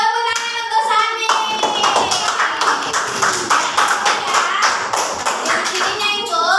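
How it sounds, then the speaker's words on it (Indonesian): A classroom of schoolchildren claps for a classmate during a lesson, a burst of many close, quick hand claps sustained for several seconds, with children's voices mixed in underneath. "Oke, tepuk tangan untuk Sami"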